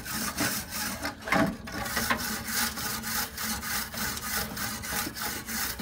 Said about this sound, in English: you're gonna need a wire brush to scrub all that garbage off of it